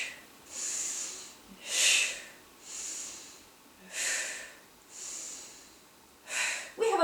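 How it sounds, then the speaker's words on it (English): Deep breaths in and out during a guided exercise workout, a slow steady rhythm of about six airy, close breaths with soft hissing noise, no talking. "Inhale and exhale around."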